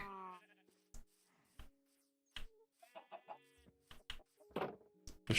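Sheep in the Minecraft video game bleat in a run of short, quavering calls with gaps between them, joined by clucking chickens and scattered sharp clicks from the game.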